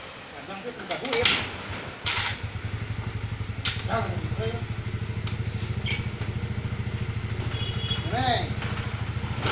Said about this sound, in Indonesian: Ah, ini motor kolot.